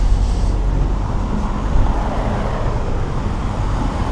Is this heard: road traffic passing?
yes